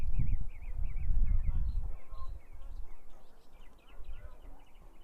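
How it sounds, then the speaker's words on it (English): Birds chirping and trilling at an outdoor high school baseball game, repeated short warbling calls heard faintly over low rumbling crowd and field noise. "I hope you can hear the birds singing"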